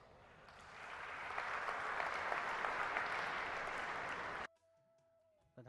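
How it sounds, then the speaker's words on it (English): Loud, sustained applause for Liberian President Ellen Johnson Sirleaf's acceptance speech swells over a few seconds from a large audience, then cuts off abruptly into near silence. "drew huge applause on her opening remarks in her acceptance speech"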